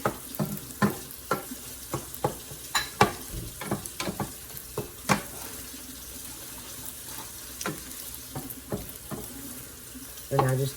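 Eggs for fried rice cooking in a pan, a low steady sizzle broken by repeated sharp scraping and clicking strokes of a utensil, with a brief burst near the end; close and moderately quiet, no talking.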